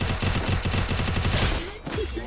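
Rapid bursts of gunfire from the Free Fire video game rattle loudly in quick succession, a dense automatic stream followed by a brief pause and a few softer shots.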